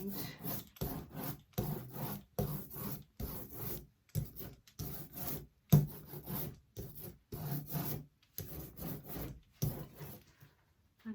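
Paint is rolled onto a wooden sideboard in repeated rasping strokes. The strokes come close and fairly quiet in a steady back-and-forth rhythm, with short pauses between passes.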